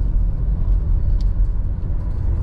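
A Honda car driving, heard from inside as a steady low road rumble and engine drone, loud and continuous throughout, with no talking.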